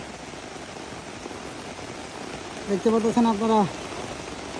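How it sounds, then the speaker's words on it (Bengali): Heavy rain pours onto a fish pond, a steady, even hiss of dense drops heard throughout. Someone speaks briefly partway through. "ঢল বৃষ্টি নামতেছে, বৃষ্টির ঢল।"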